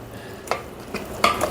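A spoon stirs hot water into ven pongal, made of rice and moong dal, in a pot with ghee, giving three short scraping and splashing strokes against a quiet kitchen background.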